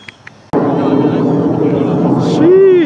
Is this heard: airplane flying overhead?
yes